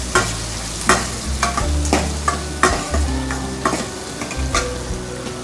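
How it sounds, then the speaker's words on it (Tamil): Onions sizzle and fry steadily in a pan for a Tamil vatha kuzhambu, with occasional scraping and stirring clatters from a utensil; no talking. "இது எல்லாத்தையும் போட்டு நல்லா கொஞ்சம் ஆனியன் நல்லா வறுபடட்டும்"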